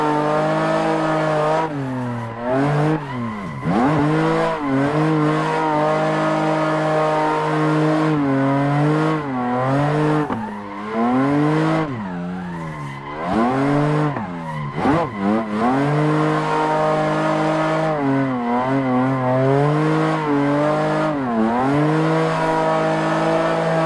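A BMW E30 in the Assetto Corsa racing game drifts with traction control off, its engine revving up and down in repeated swoops with tire squeal, loud and close and with no talking.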